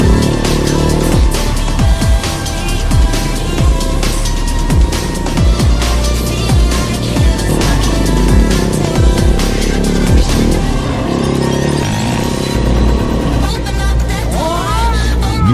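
A KTM 690 motorcycle ridden hard off-road on heavy throttle, engine loud and close with rising and falling revs and bursts of acceleration, joined by rattles and wind noise toward the end.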